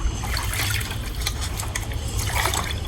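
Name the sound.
pouring a glass of water into egg and oil mix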